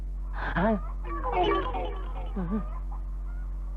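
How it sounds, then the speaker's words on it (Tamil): Chickens cluck in short bursts close by, several calls spread across the moment against a steady low hum, with a person's voice mixed in. "ஆளுக்கு ஒரு கோழியோட வந்து நிக்கிறீங்க."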